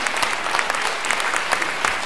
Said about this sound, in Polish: Bardzo dziękuję. Brawa.